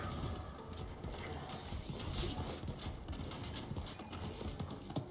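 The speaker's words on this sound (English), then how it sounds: "There's a horse over here." Video game audio: rapid hoofbeats clip-clop continuously at moderate distance, a rhythmic clatter of a galloping horse with faint mechanical clicks mixed in.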